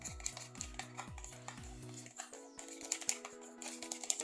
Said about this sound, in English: So now I'm going to mix all this together.